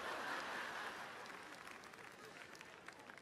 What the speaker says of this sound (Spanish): Claro, ustedes aplauden